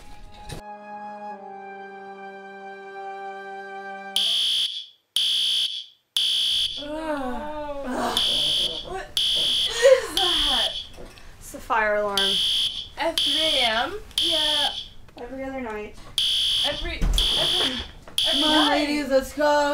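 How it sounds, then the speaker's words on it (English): Fire alarm sounding indoors: repeated loud electronic beeping tones in steady bursts, preceded by a sustained tone, with people talking over it. "Another fire alarm."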